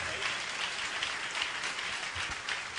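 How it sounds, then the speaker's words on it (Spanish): Strong, steady applause from a church congregation fills the whole stretch, a dense even wash of many hands clapping with no voices standing out. "Qué tremendo, fuerte el aplauso."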